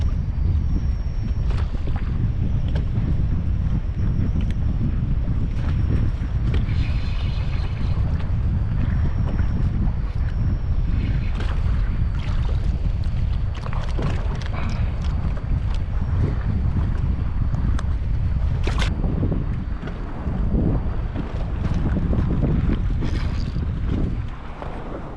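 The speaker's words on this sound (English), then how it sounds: "Alright, well the wind has started." Strong wind roars across a fishing boat on the western Long Island Sound, a dense, steady low rumble of gusts buffeting the microphone, with faint water and hull knocks beneath and no talking.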